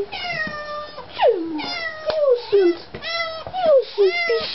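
A cat meows repeatedly in loud, drawn-out, falling cries, several in a row with short gaps, close to the listener.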